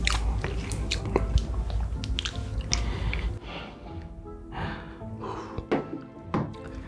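Close-up mukbang chewing and biting on grilled whole beef tripe (daechang), with wet squishy bites and repeated chewing at a fast, irregular rhythm, loud and near, with no talking.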